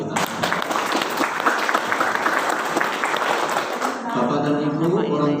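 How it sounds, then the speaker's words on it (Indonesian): Audience applause at a high school graduation and farewell ceremony in Indonesia, a dense, loud burst of clapping from a crowd lasting several seconds before a voice comes in at the end. "Tepuk tangan buat kita."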